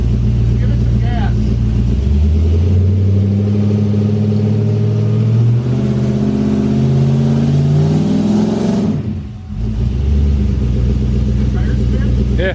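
A 1000hp turbocharged Chevrolet Colorado pickup with a bed-mounted turbo and tailgate-exit exhaust accelerates with tire spin: a loud, close engine roar climbs through rising revs, dips briefly near the end, then surges again.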